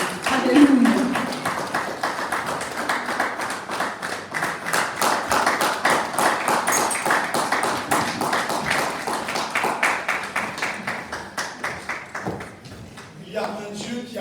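A church congregation claps and applauds the word of God during a French-language service, steady rhythmic clapping running throughout with voices mixed in, fading toward the end.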